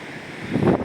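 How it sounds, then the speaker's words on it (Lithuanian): Rough sea and wind sound along the rocky volcanic coast at Ponta da Ferraria: steady wind rush with a surge of waves swelling louder near the end, no talking. "Jūra, aišku, susišiaušusi."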